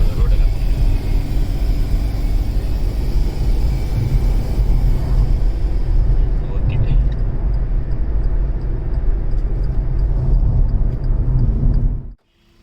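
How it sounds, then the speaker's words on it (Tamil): A Hyundai Elite i20 diesel engine revving hard at full acceleration, a loud steady rumbling drone with a hissing, air-leak-like whoosh over it, cutting off abruptly at the end. "ரேஸ் பண்ணி போகும்போது ஃபுல் ஆக்சிலேஷன் கொடுக்குறப்போ பார்த்தீங்கன்னா ஏர் சவுண்டு லீக் ஆகிற மாதிரி ஒரு சவுண்டு வரும்"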